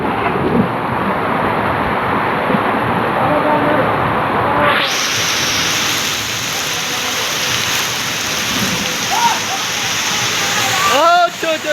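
A torrential downpour outside a rented room sounds as a thick, unbroken wash of falling and splashing water with a possible low rumble, while a person talks over the constant roar.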